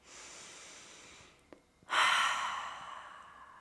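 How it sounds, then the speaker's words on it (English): A deep breath taken during a grounding autumn yoga flow: a soft, steady airy inhale, a brief pause, then a louder breathy exhale through the mouth that fades gradually, heard alone and close. "Let's take a big inhale together and an exhale through the mouth."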